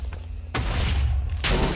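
Explosion set off by the Special Armor mod in Minecraft: a sudden broad blast bursts in and rumbles steadily, then a second loud burst hits near the end, with no voices.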